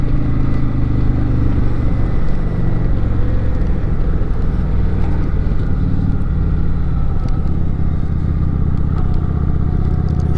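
Steady, loud rumble of a mid-sized Harley-Davidson motorcycle engine being ridden, a continuous low throbbing drone with wind noise and no talk.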